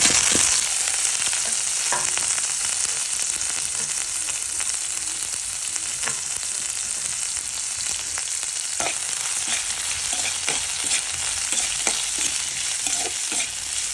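Onions hiss and crackle in hot oil in a pan as squid gravy is cooked, a steady close sizzle with occasional stirring scrapes and clicks throughout, no voices.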